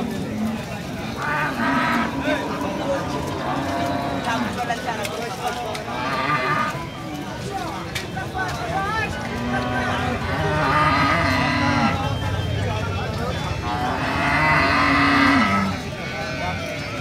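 A large black cow at the crowded Rajshahi City Hat cattle market gives several low, drawn-out moos, heard amid constant market crowd noise and animal sounds.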